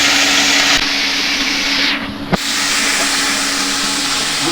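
Meat sizzles loudly after being dropped into a hot kadai pan in a home kitchen, a dense continuous hiss that briefly dips and steadies again as it cooks.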